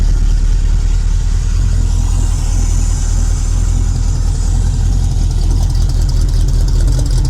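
A cheap project car's engine runs continuously at a steady idle after being fired up, a loud, unbroken rumble with its timing set slightly retarded; no one speaks.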